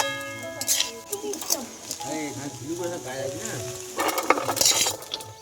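Rice stir-fried for fried rice in a pan over a wood-fired clay stove in a village home, with scraping utensil clinks and soft sizzling close by, partly under a speaking voice.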